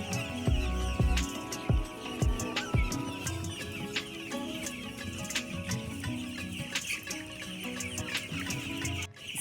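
A flock of young broiler chickens in a poultry house clucks and chirps continuously, with many overlapping birds close by, a few sharp low thumps early on, and a steady background hum.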